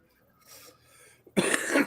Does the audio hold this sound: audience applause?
no